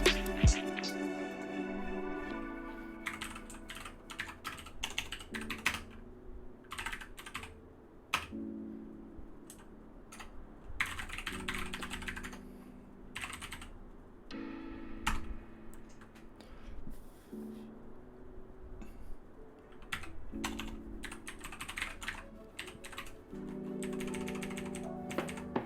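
Computer keyboard typing during a web development coding session, with bursts of clicking keystrokes at close range, interspersed with brief pauses and faint background sounds, fairly steady throughout.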